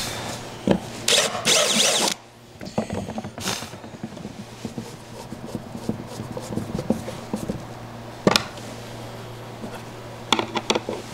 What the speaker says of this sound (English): I got to go in with a countersink bit and sink those down in.